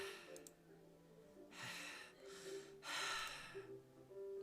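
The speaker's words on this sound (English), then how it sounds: "A sharp inhale, like someone is sucking the air through their teeth" Sharp inhales drawn through clenched teeth come from around a corner in the Doki Doki video game: three or four quiet hissing breaths in a row, the last one longest, against a faint steady background hum.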